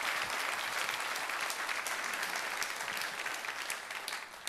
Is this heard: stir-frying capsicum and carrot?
no